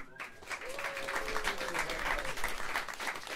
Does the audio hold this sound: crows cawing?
no